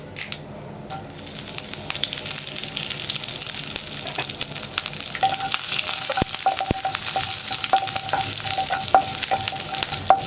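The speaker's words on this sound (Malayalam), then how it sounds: "ഇപ്പോൾ നമ്മുടെ കടുക് പൊട്ടിക്കൊണ്ടിരിക്കുന്നുണ്ട്" Mustard seeds spluttering in hot oil with dried red chillies and curry leaves for an onion egg stir fry, a continuous close sizzle dotted with sharp pops and crackles.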